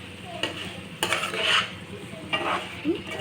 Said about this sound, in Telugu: ఒకసారి కదిపేసి ప్లేట్ అయితే మూసేద్దాం